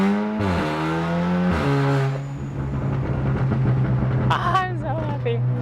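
An Audi S3 fitted with a CTS blow-off valve accelerates hard, its engine note climbing through two rising pulls with a shift between, loud and close inside the car, with voices briefly heard near the end.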